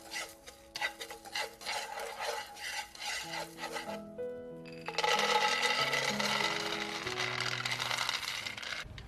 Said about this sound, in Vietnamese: Mình rang cho cái muối này nó nóng lên thì mình sẽ cho đậu vào.